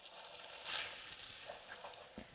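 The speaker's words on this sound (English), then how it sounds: "We'll get this butter all melted. It's getting a little too hot." Butter melting in a hot pan gives a steady, soft sizzle and crackle with a couple of brief louder pops, close up and without talk.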